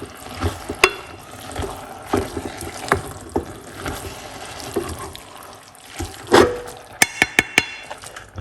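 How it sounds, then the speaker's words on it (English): Ingredients being stirred in a pan while steaming cabbage, with irregular close scrapes and clanks of a utensil against the pan, a few sharp metallic knocks near the end. "Just have to stir them up"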